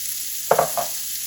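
Onion drops into leftover sausage and shrimp fat in a jambalaya pot, giving a short sizzling hiss and a couple of quick clattering stirs before the sound settles back into faint background noise.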